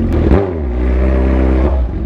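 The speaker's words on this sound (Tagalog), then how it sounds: "Tapos ngayon dahil nabasa yung motor ko, buo yung tunog ng tambucho." A wet motorcycle's exhaust after riding through rain, a full, deep engine note rising briefly and then holding steady, close and loud for about two seconds with no talking.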